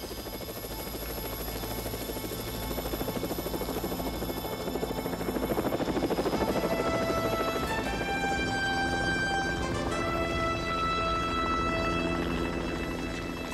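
A steady, close Marine helicopter rotor thumps continuously, growing louder midway, with a high whine and mechanical tones layered over the chopping beat.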